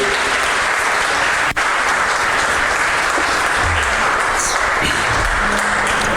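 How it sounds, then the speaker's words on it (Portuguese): A church congregation applauds during an evening service, a loud, steady wash of clapping from many hands that holds for about six seconds. "você pode dar um aplauso ao Senhor nessa noite"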